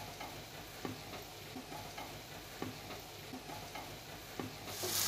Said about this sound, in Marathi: केळी आता एकजीव करून घेऊया आपण याच्यामध्ये